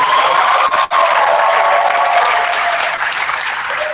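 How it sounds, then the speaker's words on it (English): Dense, steady applause from a large conference audience at a keynote session fills the space evenly. It is loud and sustained, holds at a constant level, and no speech is heard. "So again, huge round of applause."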